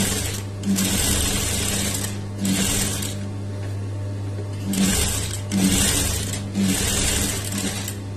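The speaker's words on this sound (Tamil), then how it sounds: "இப்போ பக்கத்துலயே நம்ம இன்னொரு தையல் கூட போட்டுக்கலாம்." A domestic sewing machine runs a second line of stitches on scrap practice cloth, a loud steady mechanical whir with a constant hum that pauses briefly several times, close up and without speech.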